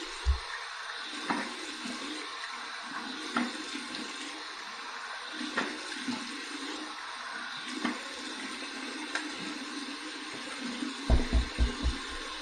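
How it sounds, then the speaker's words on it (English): Warm water runs steadily from a tap for a rinse after a shave with a Parker 78R razor, a soft continuous hiss with a few splashes and knocks near the end. "Here's my warm water rinse."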